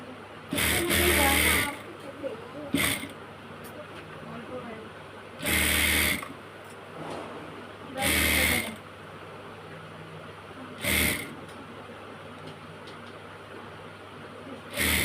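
A sewing machine runs top-stitching along a hijab seam in about five short, fast bursts separated by pauses, with soft background noise between runs.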